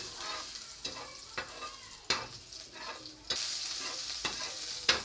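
Garlic sautés in oil in a hot pan, a steady sizzle broken by several sharp scraping stirs of the spatula, close and moderately loud with no voices.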